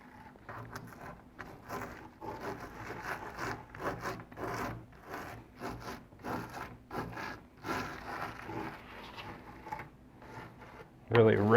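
Rough, irregular scraping and rubbing of grains being wrenched off an asphalt roof shingle, a Malarkey vs Tamko torture test, in repeated close strokes, with a louder burst at the very end.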